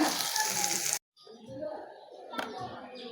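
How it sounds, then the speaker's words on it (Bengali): Chickpeas fry crisp in a little oil, giving a steady close sizzle that cuts out briefly, then returns softer with stirring noise and a sharp clatter. "আমি অল্প তেল দিচ্ছি খুব ভাজা ভাজা করে নিতেছি"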